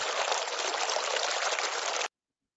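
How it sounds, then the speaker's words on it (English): A fountain water sound effect plays as a loud, steady hiss of splashing, running water for about two seconds, then cuts off abruptly into silence. "It's supposed to be a fountain."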